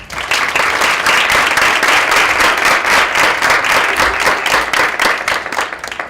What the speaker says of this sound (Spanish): para la cual le pido un aplauso